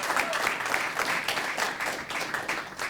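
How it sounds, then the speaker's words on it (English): Audience applause at a public service award ceremony for a police chief, a dense steady wash of many hands clapping that holds evenly for a few seconds without any voices. "So give Director Steve Cooper a round of applause"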